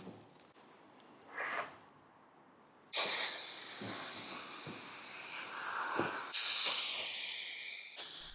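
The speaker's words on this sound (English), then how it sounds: "This is spray contact adhesive and it's super easy to use" Spray contact adhesive is applied to veneer on a wooden sideboard. A faint short hiss comes first, then a loud, sustained airy spraying hiss starts in bursts and runs to the end.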